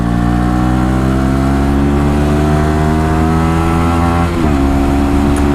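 Engine of a 2017 KTM Duke 125 motorcycle heard up close and loud, a steady high-revving drone that climbs smoothly in pitch, then drops sharply for a gear change and pulls again.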